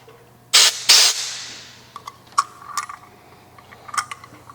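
An oxyacetylene cylinder valve is cracked open to dust it, giving two short, loud hissing gas bursts in quick succession, followed by faint metallic clicks and handling noises.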